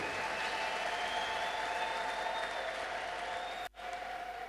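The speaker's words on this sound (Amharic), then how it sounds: "በጣም ለእግዚአብሔር ክብር አጨብጭቡለት እስቲ።" Church congregation claps, a sustained, steady wash of applause with a sustained tone running underneath, cut by a brief dropout near the end before resuming.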